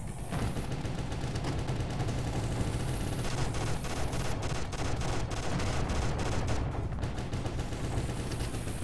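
A minigun firing nonstop in the Destropolis video game, a dense, unbroken roar of rapid shots lasting several seconds at high volume, with layered impacts and no speech.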